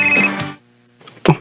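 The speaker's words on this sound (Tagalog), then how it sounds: "Oh, si Lord Jim nanawag." A phone rings with an incoming call, a short electronic ringtone burst at moderate level that fades to near silence, then a louder thump and brief rustle of the handset being picked up.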